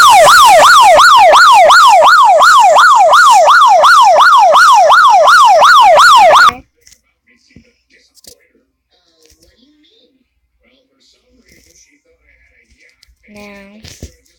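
A police car siren sound effect blares loud and close in a rapid, rhythmic yelping wail for about six seconds, then cuts off abruptly, leaving near silence with faint voices talking.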